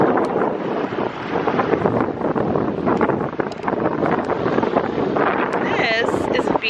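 Steady wind buffets the microphone on a beach at Hilton Head, a continuous rough roar with surf-like wash underneath.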